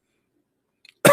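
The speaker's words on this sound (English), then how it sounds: "Should I cough more so people understand?" A person gives a short burst of coughing or throat clearing, close and loud, after a long stretch of near silence.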